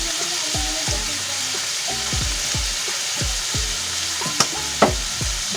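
Tomatoes and black pepper sizzle and fry in a pan as a sautéed base for ginisang munggo, a steady hiss with a series of scraping stirs and two sharp clinks near the end, close up with no voices.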